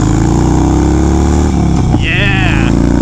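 A Harley-Davidson Dyna Wide Glide FXWG motorcycle rumbles loudly and steadily while riding, its low engine drone continuous and close, with a brief higher tonal whine near the end.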